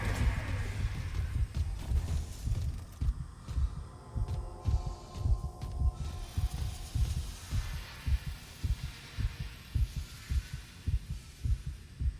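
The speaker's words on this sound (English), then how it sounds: "Why is Isaac's heart beating?" The player character's heartbeat in the Dead Space Remake video game, a steady, fairly fast run of deep, muffled thumps lasting throughout, heard alone under a faint background hum.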